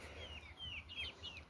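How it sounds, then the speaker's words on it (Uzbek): Chickens cluck softly, joined by a few quick, high peeping calls, in a brief and faint burst with no one speaking. "Lekin jo'jalarim qayerga ketdi?"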